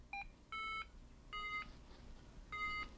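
XC Tracer Mini 2 paragliding vario gives a short chirp and then three clear electronic beeps, evenly spaced and fairly quiet, in an otherwise calm room.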